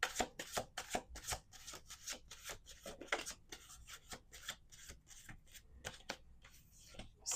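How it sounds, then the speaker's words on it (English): Tarot cards shuffled by hand in a steady run of crisp riffling and slapping bursts, close and fairly quiet, with no talking. "We're going to do 2 more shuffles."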